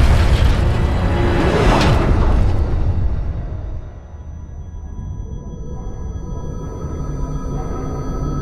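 In the Halo Infinite campaign, an aircraft makes a violent emergency crash landing: a loud roaring impact and booming rumble that slowly fades into a lower mechanical drone and ringing hum.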